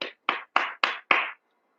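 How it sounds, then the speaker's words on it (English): A single person claps hands five times at a steady rhythm, each clap sharp and close with a short decay, followed by silence. "So you can hear me clapping"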